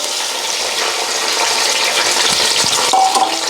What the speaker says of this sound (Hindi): तो देखिए अब इसी ऑयल में हमने यहाँ पर गोश्त डाल देना है।